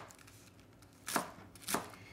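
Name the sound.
knife chopping romaine lettuce into thin strips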